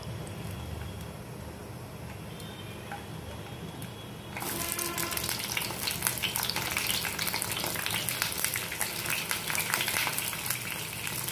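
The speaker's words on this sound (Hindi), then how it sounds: "तेल गरम हो गया है, अब इसके अंदर मैं बैगन डालकर फ्राई करूंगी" Eggplant dropped into hot oil for a baingan aloo sabzi: a quiet low hum, then a sudden loud, crackling sizzle that keeps bubbling steadily, close and with no talk.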